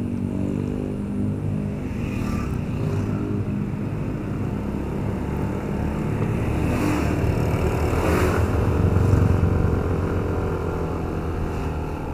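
A 2019 Yamaha Nmax 155 scooter climbs uphill with a steady engine drone, with the motor rising slightly in pitch and strength toward the middle of the run, heard close over wind rush, with no talking.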